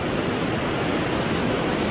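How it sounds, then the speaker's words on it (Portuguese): Water rushes from opened reservoir floodgates in China, a dense, loud, continuous roar of torrential flow with no pauses. "As comportas de um reservatório na China tiveram que ser abertas para dar vazão à enorme quantidade de água."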